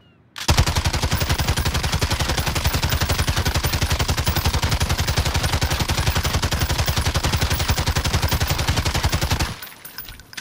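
Automatic weapon fire in a video game during a 100-round anti-recoil test: one loud, unbroken stream of rapid, evenly spaced shots lasting about nine seconds, then stopping abruptly.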